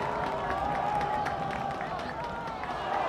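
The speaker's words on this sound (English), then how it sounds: "Listen to this crowd." Crowd noise at a high school football game, Peoria High at Normal Community, a steady roar from the stands that swells and holds throughout, with an announcer talking over it.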